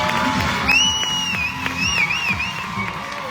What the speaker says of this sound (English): we got quite the crowd here